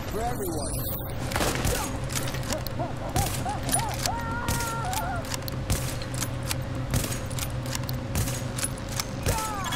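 Rapid, steady gunfire from the video game The Division during an apartment mission, many sharp shots in quick succession at moderate level over a constant mechanical background hum and other game sounds.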